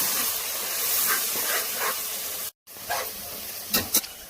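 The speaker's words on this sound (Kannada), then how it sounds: "ಚೆನ್ನಾಗಿ ಫ್ರೈ ಮಾಡೋಣ. ಅದಕ್ಕೆ ಸ್ವಲ್ಪ ಕೊತ್ತಂಬರಿ ಸೊಪ್ಪು, ಮೆಂತ್ಯ ಸೊಪ್ಪು ಮತ್ತು ಪುದೀನ ಸೇರಿಸಿಕೊಳ್ಳೋಣ. ನಂತರ ಚೆನ್ನಾಗಿ ಫ್ರೈ ಮಾಡೋಣ." Coriander leaves, fenugreek leaves and mint frying in a pan for Hassan-style chicken biryani, a loud, close, steady hiss and sizzle with a brief dropout midway and a few stirring clatters near the end.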